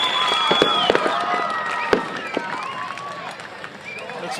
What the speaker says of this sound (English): but there's the fireworks.